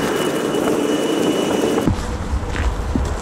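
A train rumbling along a railway line beside a street at the edge of a Russian city, a steady close roar that shifts abruptly midway as the cars pass.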